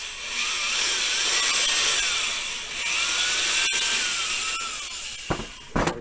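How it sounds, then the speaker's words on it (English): A power drill bores a hole into a birch log, its motor whining steadily and sagging and recovering in pitch as the bit bites, with a couple of sharp knocks near the end. "drill this hole perpendicular, raise it up a little bit"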